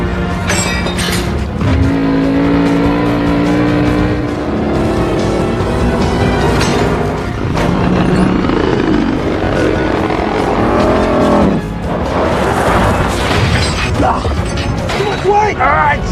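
Cars rev and race during an action scene in the film Hobbs and Shaw, where the vehicles work together to stop a helicopter from taking off. Loud engine roar mixes with helicopter rotor noise, crashes and a dense score throughout, with voices over the top.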